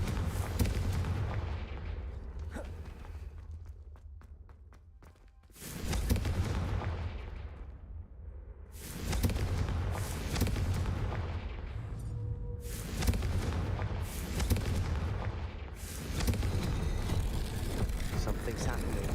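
Fire-spell explosions in Hogwarts Legacy arrive as several heavy booming blasts that swell and decay over the clip, loud and rumbling, with a voice speaking between them.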